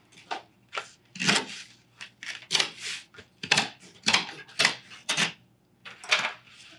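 A regular kitchen knife cuts open a cardboard pizza box, making a series of sharp, scratchy slicing and tearing strokes in quick irregular bursts, close and moderately loud with no talking.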